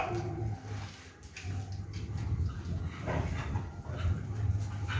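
A dog barks loudly and harshly in rapid bursts at close range, with a low steady hum running underneath and no talking.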